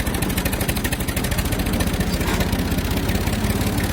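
Homemade GPS-guided tractor engine chugging steadily at close range as the clutch is slowly let out, a continuous pulsing low rumble with no talk over it.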